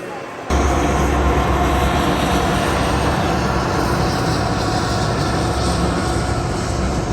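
Trains at Union Station in Kansas City give a loud, continuous rumble that fills the whole stretch after a brief quiet start, with steady low-end roar and no clear pauses.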